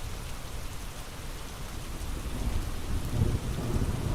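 Heavy rain hisses on surfaces while deep thunder swells and rumbles, growing slightly louder toward the end, with no one speaking.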